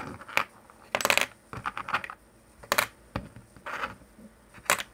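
Phillips head screws tossed down while building a computer, several sharp metallic clinks and rattles in short irregular bursts, close and fairly quiet.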